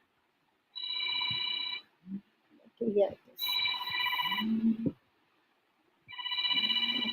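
A phone rings in three separate bursts of bright, repeating electronic tones, close and loud, with a person speaking briefly in the gaps between rings.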